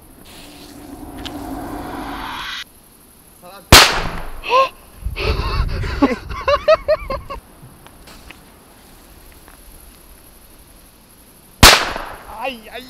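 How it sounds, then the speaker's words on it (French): Large firecrackers set off outdoors: two sharp, very loud bangs several seconds apart, each with a short echoing tail, while people chatter and react between them. "On commence les festivités avec le gros pétard"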